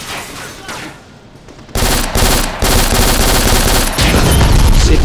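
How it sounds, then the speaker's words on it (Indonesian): Rapid automatic gunfire in the shooter game Black, Nazran Foundry mission, played on Xbox Series S; loud, dense bursts of shots fire continuously after a quieter opening with sparser shots. "Tuh gak kena-kena guys, kita nembak."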